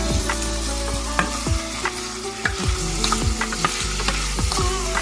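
Vegetables fry in olive oil in a pot, a loud close crackling sizzle punctuated by repeated utensil clanks and scrapes from stirring, with no voices.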